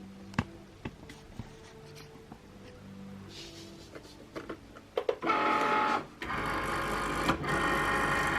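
A Cricut cutting machine loading a sheet of iron-on mesh: scattered clicks and taps give way to a steady mechanical whirring feed, with a short pause before the motor hum resumes, fairly close and quiet.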